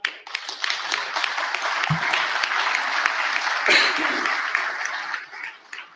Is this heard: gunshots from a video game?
no